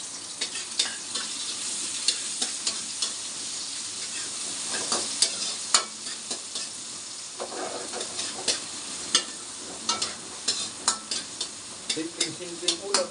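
Garlic sizzles in hot oil in a pan while a utensil stirs and scrapes it in irregular clacks, a steady close frying hiss throughout.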